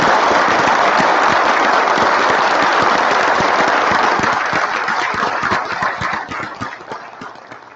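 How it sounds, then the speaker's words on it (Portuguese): Loud, sustained applause from an audience honoring Brazil's law enforcement officers, dense clapping that fills the room and gradually thins toward the end. "eu solicito uma salva de palmas aos homens da lei do nosso Brasil"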